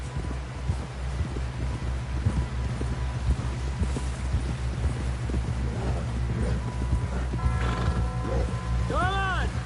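Horse sounds from the Red Dead Redemption 2 video game: steady clopping hooves and creaking tack under a low rumble, then a clear whinny rising near the end, with faint voices in the background.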